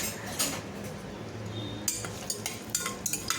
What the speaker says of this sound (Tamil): மீடியம் ஃப்ளேமில் வச்சுட்டு கரிஞ்சிடாமல் மிக்ஸ் பண்ணி விட்டுக்கோங்க